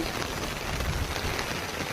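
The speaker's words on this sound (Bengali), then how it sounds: "আর দেখো আগরতলায় এত বৃষ্টি, আজ 2-3 দিন হয়ে গেছে" Heavy rain pouring steadily in Agartala during a days-long downpour, a dense, continuous hiss of drops on surfaces with no voices.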